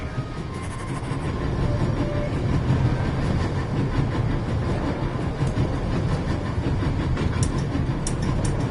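Train cars roll along the rails in a PS4 video game, a steady loud rumble with faint rhythmic clatter running throughout, no voices.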